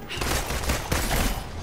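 Dense, continuous gunfire from the Marvel's Avengers video game, with rapid overlapping shots forming a steady close burst that stays loud for the whole stretch.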